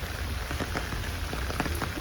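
Steady rain falls on surfaces nearby, a continuous even patter of drops with no other sounds over it.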